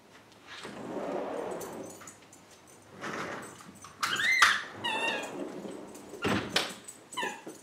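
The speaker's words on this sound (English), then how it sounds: "And that's my dog, she just came back in." Pet dog whimpering and yipping indoors after returning to a room, high whines and short cries mixed with shuffling and thumps nearby.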